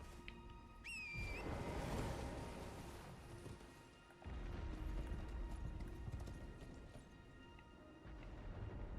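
Horse hooves clip-clop in a steady rhythm over a dense bed of Elden Ring game noise, with a brief whinny-like cry near the start.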